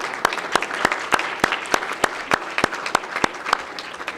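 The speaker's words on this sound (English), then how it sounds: "Can I get a round of applause?" A room at a county board meeting fills with steady applause, the claps landing in a fairly regular rhythm with no talk over them.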